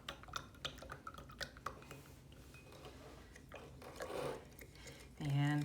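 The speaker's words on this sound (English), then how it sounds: "So I'm going to be stirring this up." A spoon clinks and scrapes around inside a glass jar, stirring sugar to dissolve it, in a quick irregular run of light taps, followed by a louder closing knock; faint and close, no talking.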